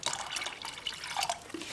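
Vinegar pours into a container of about a quart of water for soaking a brush, a brief, close trickle and drip with faint splashes.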